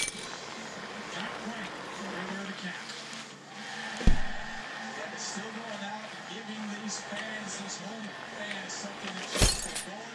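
Glass panes shattering in the physics game Happy Wheels, two sharp crashes spaced several seconds apart over a low steady game background, with light talk in between.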